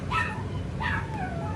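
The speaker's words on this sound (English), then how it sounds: "a dog just telling a dog their boundaries" A dog makes two short vocal bursts, high whiny yips and whimpers rather than a deep growl, close by as a mother Goldendoodle sets boundaries with her six-week-old puppy.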